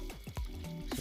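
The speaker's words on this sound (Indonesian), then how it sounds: "Ya lihat teman-teman, saya siram karungnya juga" Water is poured over a sack of plant growing medium, giving soft squishing, splashing and gurgling sounds at low level.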